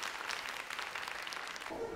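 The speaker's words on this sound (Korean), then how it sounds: "학생들에게 큰 박수가 쏟아졌습니다" Applause from a concert audience for a student orchestra after Dvořák's New World Symphony and other works, a dense wash of clapping that fills the two seconds and thins near the end.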